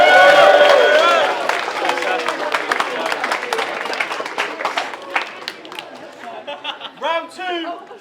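Crowd at a rap battle erupts in cheering and clapping after a round, loud at first, then settling into scattered claps and chatter under a voice speaking over the noise.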